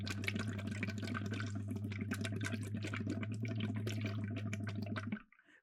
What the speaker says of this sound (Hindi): आपकी आवाज़ पानी के ज़रिए बाहर आ रही है